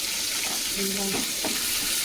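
Onion frying lightly with urad dal, turmeric and curry leaves in a pan, an even sizzle and hiss with a few faint clinks of stirring.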